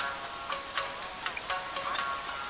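Steady rain falling, a soft continuous hiss with scattered drips and patters, no voices.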